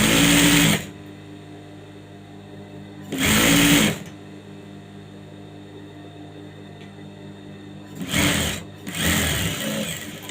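A sewing machine stitching a petticoat runs in three short bursts of whirring, rapid needle clatter with quiet gaps between, close and loud.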